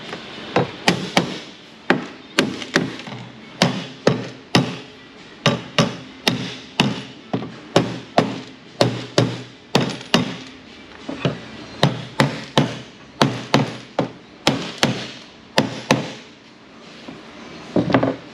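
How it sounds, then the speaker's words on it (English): A hammer taps repeatedly on metal bodywork of a 1995 Jeep Wrangler 4.0 4x4, sharpening a corner radius; loud, close, steady strikes in quick succession, sometimes doubled, with brief pauses, and no voices. "And then I can tighten it again, tap it again,"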